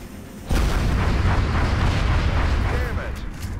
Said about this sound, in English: I'm just gonna throw a damn grenade